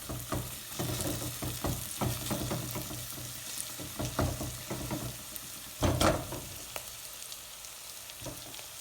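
Chicken curry in the style of a British Indian restaurant sizzles in a pan over medium heat while a spoon scrapes and stirs through it in repeated close strokes, with no talk.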